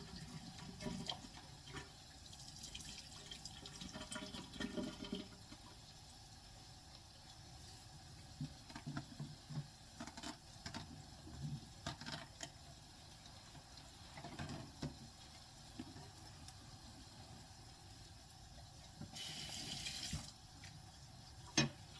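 Mushrooms are rinsed under a running kitchen tap, with quiet, uneven splashing and trickling that comes and goes over a long stretch. Occasional sharper clinks and a brief louder gush near the end.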